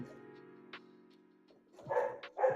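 A dog gives a few soft, muffled barks and yips, somewhat distant, after a quiet stretch with a faint steady hum in a home sewing room.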